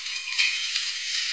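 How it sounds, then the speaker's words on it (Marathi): Slit whole eggs fry in oil in a pan for an egg and soybean bhaji, a steady close hiss and sizzle throughout with faint clinks, no one talking. "सर्व अंड्यांना मी चिरा पाडून थोडंसं फ्राय करून घेतले 1 ते 3 मिनिटांसाठी"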